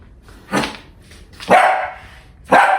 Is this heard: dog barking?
yes